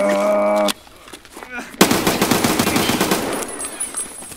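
Automatic gunfire in the video game Escape From Tarkov rips out in a loud, close, rapid burst after a brief lull, rattling on with uneven shots and echoes before tapering.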